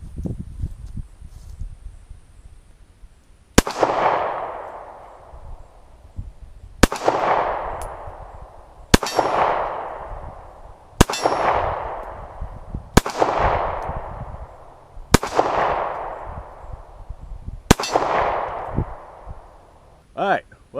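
A Taurus Slim pistol fires seven sharp shots at steel targets, spaced roughly two seconds apart, each crack followed by a ringing decay. Quiet background noise sits between the shots.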